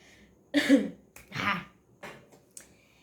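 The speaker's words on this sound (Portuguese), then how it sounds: "até tossi agora" A few short, breathy coughs from a woman with the flu, two stronger ones followed by softer ones, sound close in a quiet setting.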